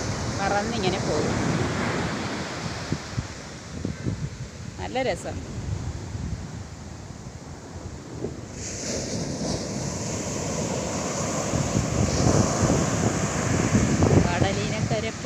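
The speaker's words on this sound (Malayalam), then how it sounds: "തിരയുടെ വരവ് കണ്ട." Sea waves at Kollam Beach wash in with a broad, steady rushing roar mixed with wind buffeting the microphone, surging louder near the end, while a person speaks briefly over it.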